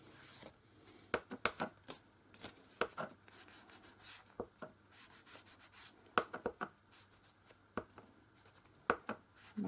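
Old paper being distressed for journal pockets, with irregular scratchy rubs and sharp scraping strokes, close but faint, with no talk.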